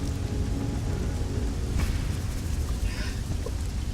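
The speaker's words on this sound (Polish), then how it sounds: "I pada deszcz, niestety, jeszcze nam na koniec." Rain falling in the video game Risen, a steady broadband hiss of downpour that fills the whole stretch, with a faint rumble and a few brief sounds over it.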